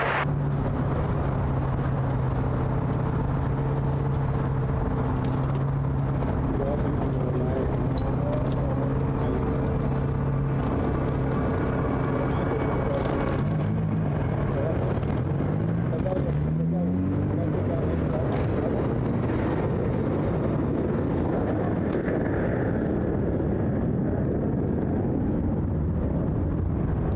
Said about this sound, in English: Runway 34 left, cleared for takeoff.